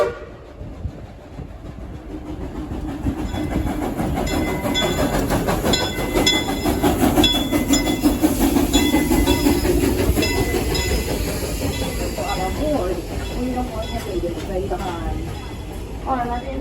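Frisco steam train riding through Silver Dollar City park, with a constant loud rumble and rhythmic clatter of the cars heard from on board, while people talk throughout.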